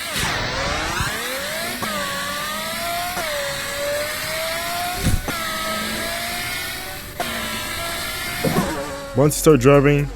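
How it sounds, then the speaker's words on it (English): Big V12 engine of a modified Apollo IE car in the Roblox game Midnight Chasers, droning and revving steadily and loudly for the whole stretch, rising and settling with throttle changes, with a voice talking over it. "they're getting drowned out by the insanely big V12"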